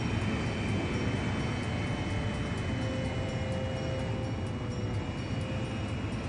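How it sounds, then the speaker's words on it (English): A transport plane making an emergency landing in Ace Combat 5, the video game, gives off a steady, dense engine roar and airflow rumble that holds at an even level throughout, with no speech. "The transport plane is ready for an emergency landing."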